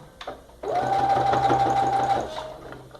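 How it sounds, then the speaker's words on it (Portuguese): Sewing machine stitching briefly in reverse to backstitch the seam end of a fabric toiletry bag, a close, fast mechanical whir lasting about a second and a half before slowing to a stop. "Vamos dar um retrocesso também no final."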